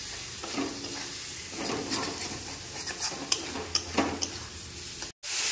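Tomatoes fry with masala in a pan for an Odia fish curry, a soft sizzle running under occasional stirring scrapes and light clinks of a utensil against the pan.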